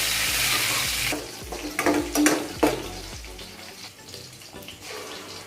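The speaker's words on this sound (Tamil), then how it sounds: "கடுகு, வெந்தயம், ஜீரகம், சின்ன வெங்காயம், கருவேப்பிலை இதெல்லாம் சேர்த்து நல்லா ஃப்ரை பண்ணிக்கோங்க" Mustard seeds, fenugreek, cumin, shallots and curry leaves fry in hot oil for a brinjal curry: a loud sizzle at first, then softer crackling broken by a few clanks of a stirring spoon against the pan.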